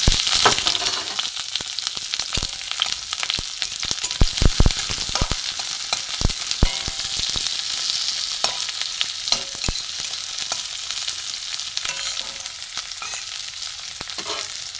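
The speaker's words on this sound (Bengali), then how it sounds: "আমি এই পেঁয়াজ কুচিগুলো ভেজে নেব।" Chopped onions frying in oil in a wok after dried red chillies, a continuous close sizzle broken by frequent scraping and clattering strokes of a spatula, louder early on and easing toward the end.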